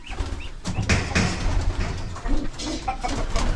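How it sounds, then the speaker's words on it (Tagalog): Young pigeon chicks in a nest on a roof give soft cooing and chirping calls up close, mixed with rustling and fluttering movement in short bursts. "Meron na po mga sisiw ito mga to."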